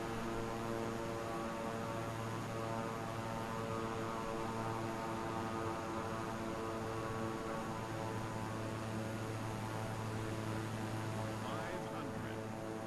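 A fixed-wing airplane lands in MS Flight Simulator, its steady engine and propeller drone humming with layered tones throughout, close and continuous with no break.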